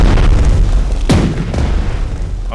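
Anti-aircraft guns firing in the World War II strategy game Strategic Mind, heavy booming shots with two sharp cracks standing out over a constant low rumble of battle, loud and close.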